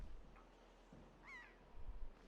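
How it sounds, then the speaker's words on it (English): Cawing crow-like bird calls in the video game The Legend of Zelda: The Wind Waker, a few faint harsh caws spaced apart over quiet game ambience, with no voice over them. "Oh, I hear some birds."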